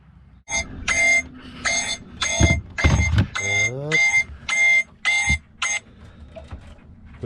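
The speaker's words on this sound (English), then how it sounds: "We've moved quite a bit on our anchor alarm" A boat's anchor alarm sounds in a bay as a series of about ten regular electronic beeps, with thumps, creaks and a voice-like swoop underneath.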